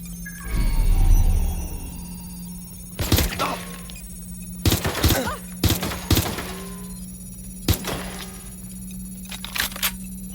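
Gunfire in the Watch Dogs Legion video game as the player character is shot: several sharp, loud bursts spread over a few seconds with a low rumble and steady background hum, no voices.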